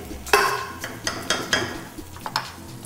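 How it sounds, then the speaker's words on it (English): Whole plum tomatoes hit a hot pan with several short bursts of sizzling and clinks of a utensil stirring, close by, with no talking. "you'll get that initial burst of sizzle"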